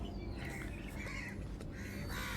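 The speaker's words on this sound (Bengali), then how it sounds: "এখানে অনেক পাখির কলকাকলি শুনতে পাচ্ছিলাম" Birds call in the morning outdoors, with crow-like caws and brief chirps rising over a steady background murmur, fairly faint and distant.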